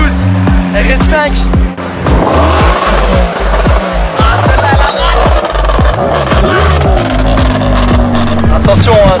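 Audi RS5 engine revving loudly and close up in a Turkish wedding car procession, with repeated throttle blips and a steady exhaust drone over crowd voices and other cars.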